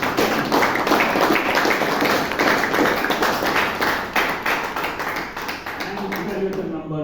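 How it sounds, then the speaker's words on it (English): Audience applause at a Toastmasters meeting in Bangalore, a steady dense patter of many hands clapping indoors, loud and continuous for about seven seconds before thinning slightly at the end. "Let's all give a big round of applause to"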